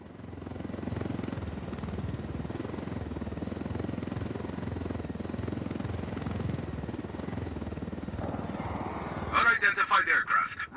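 A video game helicopter flies with a steady, loud rotor and engine drone throughout, then a burst of higher mechanical clatter near the end.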